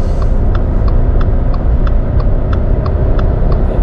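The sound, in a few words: Subaru XV car engine climbing a ramp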